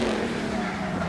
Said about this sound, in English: As we're hearing engines rev here